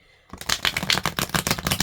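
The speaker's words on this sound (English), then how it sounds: "we're just going to take a moment to shuffle the cards" Tarot cards are shuffled by hand in a rapid run of crisp, close riffling flicks lasting under two seconds after a brief quiet start.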